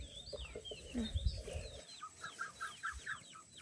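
Chickens cluck and chirp together in a busy farmyard chorus around duck and chicken pens, with short repeated calls overlapping at moderate volume.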